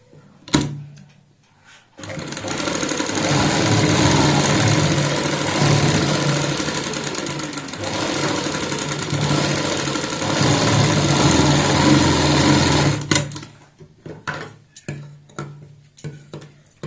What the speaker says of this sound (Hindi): क्योंकि हमें सिलाई लगानी है जहां तक बुकरम होती है।